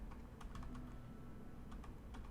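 Bursts of quick clicks on a computer keyboard as keyboard shortcuts are tried, close and fairly quiet, with short pauses between the clusters of keystrokes.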